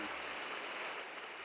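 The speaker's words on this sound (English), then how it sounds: "The first clip is a DX signal that is very noisy and thin, making it hard to understand." Noisy, thin DX signal on a ham radio receiver: a steady wash of hiss and static fills the short stretch, with no clear voice emerging from the noise.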